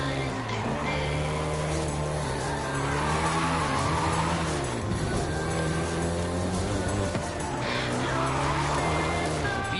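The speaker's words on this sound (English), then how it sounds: "including the Golf GTI you're driving right now" A Volkswagen Golf GTI drives in Forza Horizon 5 with a steady, close engine drone and shifting revs, with occasional tire noise and a voice talking over it.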